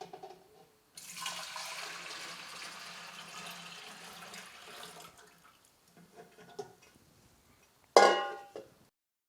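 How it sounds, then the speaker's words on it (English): Grape juice for a one-gallon batch of Moscato wine pours into a fermenter in a steady liquid rush lasting several seconds, then trickles off, followed by a sharp clink near the end. "And go ahead and pour in our juice."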